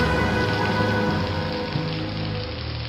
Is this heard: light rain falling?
yes